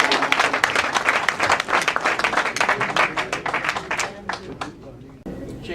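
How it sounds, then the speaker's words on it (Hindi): Audience applause at a mushaira poetry gathering welcomes poet Rashad Shah, dense claps ringing out steadily for about five seconds before breaking off abruptly. "जनाब राशिद शाह साहब को भरपूर तालियों में बुलाइए"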